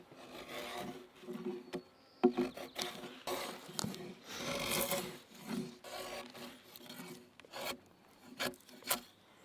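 Gray bark is scraped off a log being prepared as a handrail for a single-log bridge: repeated rough rasping strokes, close and fairly loud, come in uneven bursts with short pauses between them.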